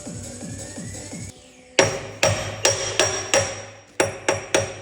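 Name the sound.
hammering JCB boom pin with brass bar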